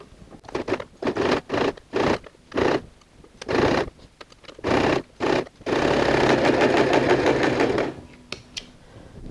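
A sewing machine stitches stretch fabric along a fold in short, rapid bursts separated by pauses, then one longer continuous run before stopping, close and clear with no talking.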